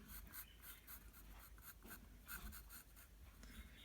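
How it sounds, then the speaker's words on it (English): Pencil sketching an ear on paper for a face drawing, a soft close scratching of repeated quick strokes in a steady rhythm, faint and alone, with no voices. "Just drawing the ear now."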